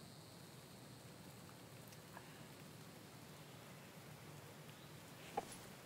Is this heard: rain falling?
yes